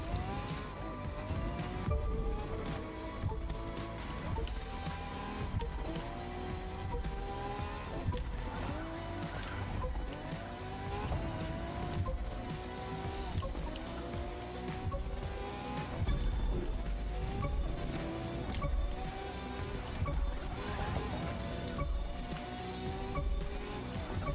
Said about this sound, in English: we're gonna go ahead and jump into the slalom first with the sweet Ferrari Enzo